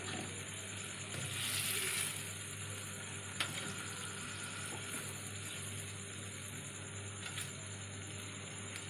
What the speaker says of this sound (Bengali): এবার এক এক করে মাছগুলো দিয়ে দিচ্ছি।